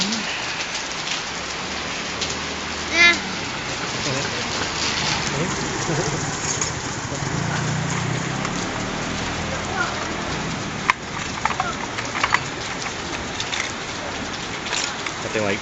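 Heavy rain pours steadily at a street-side noodle soup stall in Bangkok on a warm May day, a dense constant hiss with a few louder knocks and clatters, with voices talking faintly beneath it.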